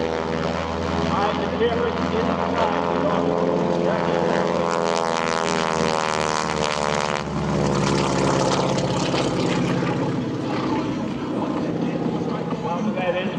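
A WWII-era propeller fighter makes a forward flyby at an airshow, its deep-throated engine drone swelling loud and near with a rising-then-falling pitch sweep as it passes, while an announcer talks over it.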